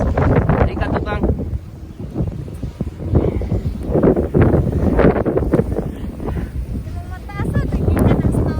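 Strong wind buffets the microphone during a Toronto snowstorm, a loud, continuous gusty roar that rises and falls. People talk over it throughout.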